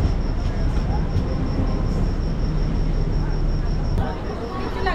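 An Eastern Railway special train runs from Kolkata to Tarakeswar for the Shravani Mela, giving a steady loud rumble of rolling carriages with a faint whistle-like tone, holding constant throughout before easing slightly near the end.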